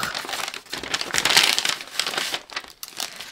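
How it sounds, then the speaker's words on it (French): Close, continuous crinkling of a small paper or plastic advent calendar pouch being unwrapped by hand, busy and irregular, with no talking. "on déballe la petite pochette avec l'indice, la suspension et le bijou du jour"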